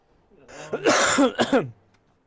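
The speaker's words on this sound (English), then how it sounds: "That was a pretty hefty cough there." A hefty, close cough with a throaty clearing, a couple of harsh bursts in quick succession, then quiet.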